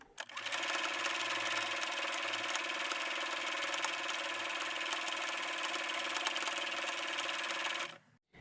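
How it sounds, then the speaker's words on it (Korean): Sewing machine running steadily, stitching a fabric hot pack with a 1 cm seam allowance; one continuous close, loud mechanical whir lasting nearly the whole stretch before stopping abruptly. "시접 1cm 두고 박음질 시작하겠습니다."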